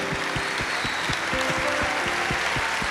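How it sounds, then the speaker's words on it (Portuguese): Church congregation clapping at a sermon, a dense steady wash of applause with rhythmic unison claps about three per second running through, loud and continuous. "Vamos aplaudir, gente."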